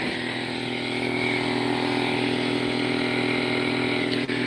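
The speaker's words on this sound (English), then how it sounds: "there went the compressor" A compressor drones with a steady, unbroken mechanical hum from start to finish, moderately loud and close, alone with no talking.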